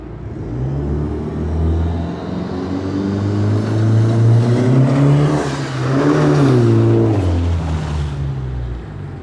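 An AWD turbocharged Dodge Stratus Coupe revving through a newly built exhaust system, its deep rumbling drone climbing and falling in pitch across two long pushes, loud and close with no voices over it.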